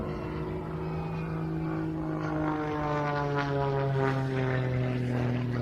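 Jet aircraft powered by ATM Lynx turbines running on sustainable aviation fuel, performing at the Ayr air show: a loud, steady engine roar with a sustained tonal whine that shifts slightly in pitch, continuous with no talk.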